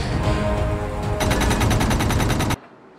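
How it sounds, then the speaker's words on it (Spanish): Blaster machine gun fire from Star Wars: The Mandalorian comes as a fast, loud burst of repeated shots after a rumbling lead-in, then stops abruptly. "A Gina Carano con una ametralladora blaster"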